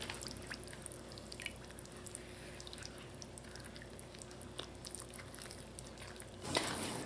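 Cornmeal arepa dough is mixed with warm water to work out the lumps, giving a steady, soft, wet stirring and squishing with light drips throughout and a brief louder clatter near the end.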